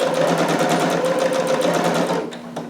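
A sewing machine stitches a jumpsuit seam to a marked dot and then back stitches, a steady close mechanical whir with a rapid pulsing that slows and fades as it stops.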